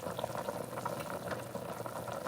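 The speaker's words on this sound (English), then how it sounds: "This has been boiling long enough for the seasoning kind of fused together with everything." Beef stew boiling in a pot, a soft continuous bubbling and simmering hiss, faint and steady throughout.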